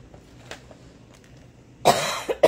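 Two harsh, close coughs burst out near the end after a quiet stretch of room sound, the first long and forceful and the second shorter, with faint background noises before them.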